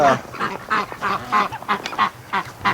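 Ducks quack near a farm gate, a rapid, close series of honking calls that overlap in quick succession throughout.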